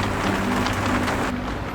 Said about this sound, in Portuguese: Estava a chover tanto